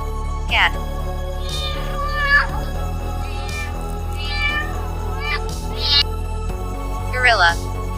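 A domestic cat meows several times in short rising and falling calls, clear and close, over a soft steady background tone.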